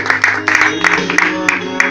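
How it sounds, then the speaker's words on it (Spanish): Church congregation applauding during a Spanish-language sermon, with distinct, loud claps landing in an uneven rhythm over a sustained musical tone, crowd voices faintly mixed in. "Denle un fuerte aplauso al Señor y Rey de Reyes, que se lo merece"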